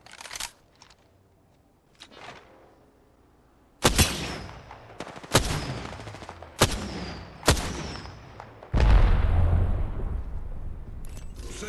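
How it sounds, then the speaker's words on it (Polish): Gunfire in the video game Apex Legends: a handful of sharp, loud shots and blasts at irregular intervals, ending in a heavier booming burst, with quieter clicks and rustles before the firing starts and no voices. "Jestem pod ostrzałem!"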